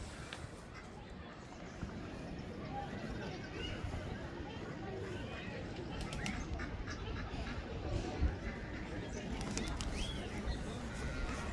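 Ducks quack in Hyde Park, central London, against a dense, steady outdoor din with people talking nearby.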